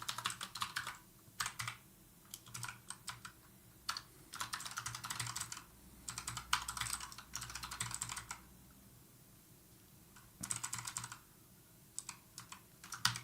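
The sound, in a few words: typing on a Razer Huntsman computer keyboard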